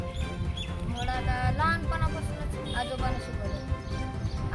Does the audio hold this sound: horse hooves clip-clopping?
yes